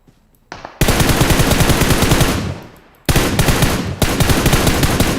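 Loud, close automatic gunfire from PUBG Mobile, sustained rapid bursts with a short pause before a second volley that continues to the end.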